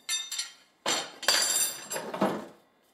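A day-glow hammer knocks and clatters against other items while being unboxed from a container haul, giving several sharp handling clunks and clinks close by with brief pauses between them.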